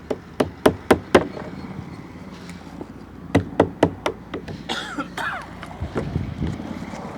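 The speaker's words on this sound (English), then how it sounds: "take your flathead screwdriver and your mallet, and you're going to pry that top of the lid open" Hard wooden knocks from a mallet striking a flathead screwdriver to pry the lid off a shipping crate, two quick bursts of four or five sharp blows, then creaking and scraping wood as the lid loosens.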